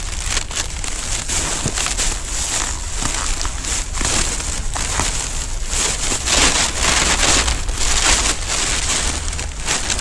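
Steady rain patters and crackles on a nearby plastic surface, a dense continuous hiss with scattered sharper taps throughout.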